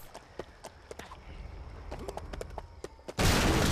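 Hooves clatter in a steady galloping rhythm in the Der Hobbit video game, with sharp impacts in the mix, before a burst of loud rushing noise ends it.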